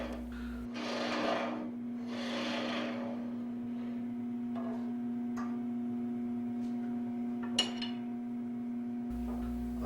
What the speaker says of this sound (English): I've just been truing the little nib off the end there with the spindle gouge